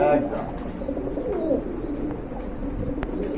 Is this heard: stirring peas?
no